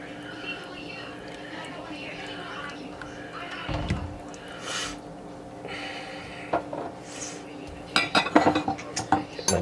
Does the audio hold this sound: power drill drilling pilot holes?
no